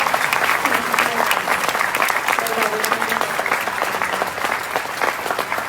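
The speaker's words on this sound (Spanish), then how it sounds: "para quienes pido un fuerte aplauso" A large audience at a public event against violence, attended by mayors and officials, claps loudly and continuously in a thick, even roar, with faint voices murmuring underneath throughout.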